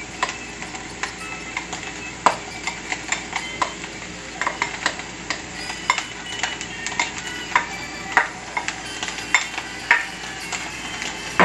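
Onion and ham frying in a pan, a steady sizzle under frequent scraping and clinking as a utensil stirs against the pan, close up with no voices.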